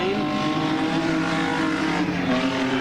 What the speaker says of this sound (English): 62, driven by Jimmy Richards, JTS BMW, heading down to the carousel for the final time